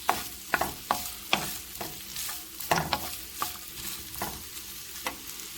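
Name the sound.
sautéing in corn oil in a pan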